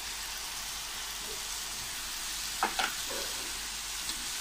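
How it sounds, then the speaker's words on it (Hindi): Eggplant and potato sabzi with tomatoes fries in a pan, giving a steady soft sizzle throughout with a few brief clinks of stirring near the middle, no talking. "दो से तीन मिनट हो गए मुझे सब्जी को फ्राई करते हुए।"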